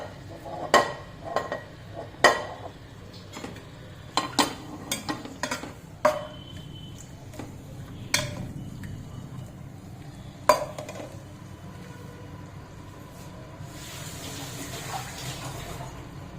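Prawns frying in oil in a pan for biryani, a steady low sizzle under repeated sharp clinks and scrapes of a utensil stirring, with a brighter hiss rising toward the end.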